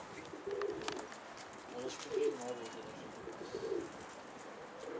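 A pigeon gives several soft, low cooing phrases in bursts spread across the recording, fairly faint against a quiet background, with a few higher bird calls mixed in.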